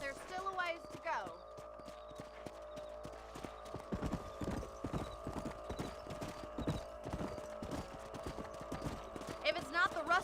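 Horse hooves clip-clop steadily on a ranch property in the Red Dead Redemption video game, with mounted riders, a brief whinny and dialogue over game music throughout.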